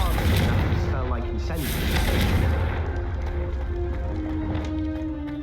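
Confringo fire bolts from a wand blast candelabras in the video game Hogwarts Legacy, heavy booming impacts and crackling bursts over a rumbling low score, with a voice speaking during the action.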